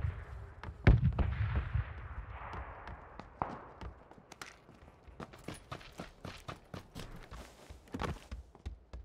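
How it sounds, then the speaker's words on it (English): Suppressed SKS rifle gunfire in the battle royale game PUBG: a string of sharp, irregular shots, some spaced and some in quick clusters, fairly distant and moderately loud, with no talking. "somebody's uh, shooting a suppressed SKS"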